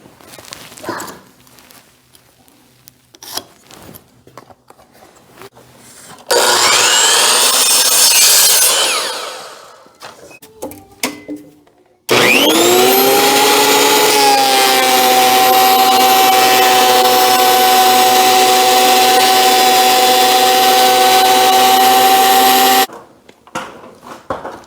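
A power planer shaves down a piece of wood in a garage for a ladder install, with two loud bursts of machine whine and cutting, the second long and sustained, separated by quieter handling noises.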